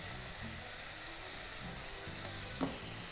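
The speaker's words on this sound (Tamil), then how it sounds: "இப்போ இந்த வாழைத்தண்டு ஆல்மோஸ்ட் முக்கால் பாகம் வதங்கிடுச்சு" Steady soft sizzle of chopped banana stem sautéing in a pan with turmeric, chili powder and coriander powder, a continuous faint hiss with a brief scrape of stirring near the end.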